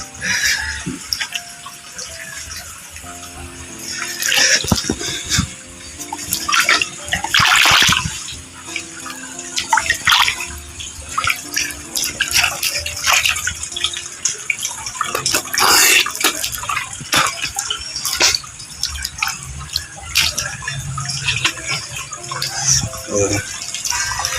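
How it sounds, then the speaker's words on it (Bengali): Water gushes and splashes from a siphon pipe draining a fish tank, uneven bursts of flow and dripping spread across the stretch while someone talks over it. "জল বেরোচ্ছে"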